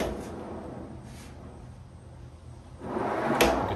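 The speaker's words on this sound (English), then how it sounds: "this allowed a nice little gap so the drawer slid smoothly" A heavy drawer of a homemade car gun safe rolls on heavy-duty slides, giving a low smooth rumble that swells into a louder slide and a firm stop at the end.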